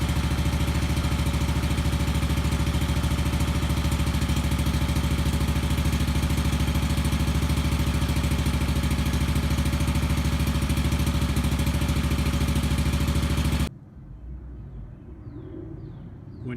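An Exmark Turf Tracer mower with a hydrostatic transmission runs its engine at a loud, steady idle hum, close by, then shuts off abruptly, leaving quiet ambience with faint birdsong.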